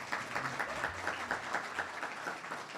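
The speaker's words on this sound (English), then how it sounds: "please give them a round of applause" Audience applause at an internal medicine resident graduation ceremony, with a moderate, even patter of many hands clapping steadily throughout at a mid distance.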